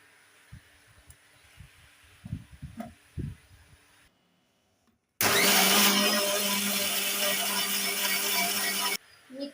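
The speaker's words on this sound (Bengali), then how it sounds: "এবার মিক্সিতে পেস্ট করে নেবো" A mixer grinder blends raw and ripe mango with water into a paste, a loud steady motor whir starting abruptly and running about four seconds before cutting off, after some soft handling clatter.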